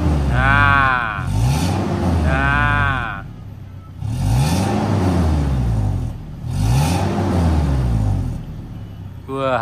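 A Toyota Avanza engine with a heavy-smoking fault is revved four times in a row. Each rev climbs and falls back as a loud, close mechanical whine with a steady rhythm.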